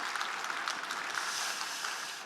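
A church congregation claps together in thanks during a Sunday service, a quiet, steady round of applause that sounds somewhat distant, with no voices heard.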